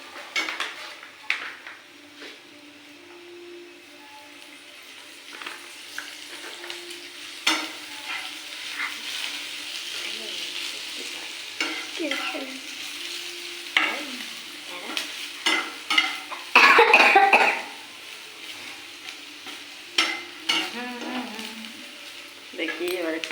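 Food frying in oil in a pan while it is stirred, with soft sizzling beneath repeated scraping and clinks of a metal spoon against the pan, close by, with a short burst of harsher clatter near the end and no talk.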